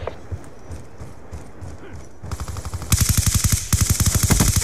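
Rapid automatic gunfire from Call of Duty: Black Ops 2 online on Wii U starts partway through, with loud, dense bursts of sharp repeated shots after a quieter lead-in.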